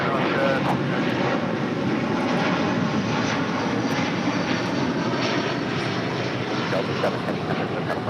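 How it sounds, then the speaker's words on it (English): A Delta Airlines Airbus A330neo jet, Flight 7 Heavy bound for Tokyo Haneda, takes off at LAX with a loud, steady broadband engine roar that holds evenly throughout. "This is Delta Airlines Flight 7 Heavy taking off to Tokyo Haneda on the A330"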